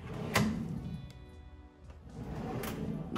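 A kitchen drawer in a brand-new modular home slides and thuds shut, with a soft sliding rumble between two brief clunks, faint and close in a quiet room.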